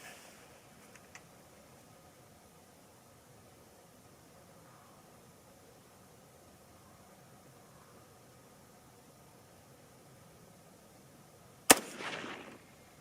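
A single loud rifle shot from a 6.8 SPC-II firing Nosler Accubond 100gn ammunition cracks near the end after a long quiet stretch, followed by a brief decaying echo.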